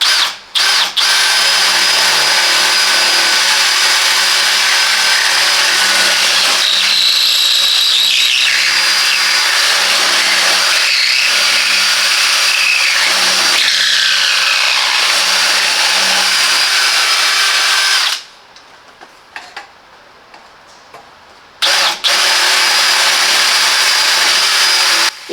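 A Parkside Performance 20V cordless drill, model PPBSA 20-Li A1, whirs loudly and steadily for most of the stretch, changing pitch now and then, with a short pause before it starts up again near the end.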